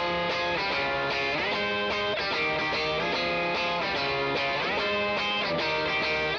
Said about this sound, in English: We can also just turn up the gain for a more distorted sound overall